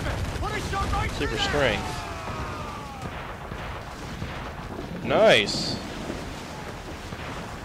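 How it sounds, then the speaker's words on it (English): Ship cannons boom in the Assassin's Creed IV video game during a naval battle with a Man of War, two loud bursts about three seconds apart over continuous game noise, with someone talking excitedly throughout. "And these things' cannons rock!"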